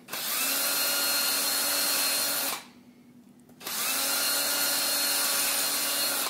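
A power drill bores holes in plastic for a DIY ukulele humidifier, whining loudly in two steady runs separated by a brief pause, close up with no talking.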